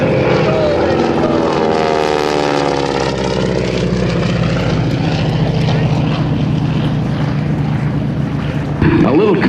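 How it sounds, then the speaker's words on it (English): A Stearman biplane with a 600 hp radial engine and big Hamilton Standard propellers roars past in a high-speed airshow pass, a loud, rising-then-falling engine drone with a harsh propeller rasp, while a voice talks over it. "little combination of the radial engine sound and the propeller tips of the big Hamilton standard propellers going supersonic"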